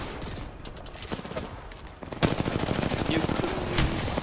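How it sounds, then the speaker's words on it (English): Automatic gunfire in the video game Apex Legends, dense rapid bursts that grow louder partway through, with brief voice under the shooting. "I'm getting shot from six position."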